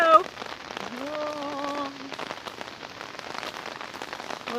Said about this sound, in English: we're gonna go take a walk in the rain